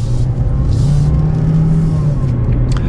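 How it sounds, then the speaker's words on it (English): A small SUV, either a 2022 Chevrolet TrailBlazer Activ or a 2022 Jeep Renegade Trailhawk, accelerates in normal mode with a steady, loud engine drone that rises gently, heard from inside the cabin with no talking. "we'll give it one acceleration just in normal mode here"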